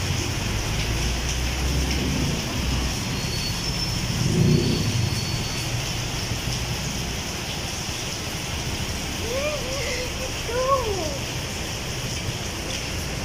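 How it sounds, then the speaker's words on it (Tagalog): Heavy rain pours steadily outside a Save More store, a dense continuous hiss close by, with brief voices and a couple of faint chirps over it. "Ang lakas ng ulan."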